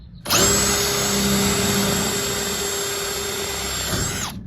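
A power drill whirs continuously at high speed for about four seconds, drilling holes in a trailer for interior dome lights, close and loud, starting and stopping abruptly.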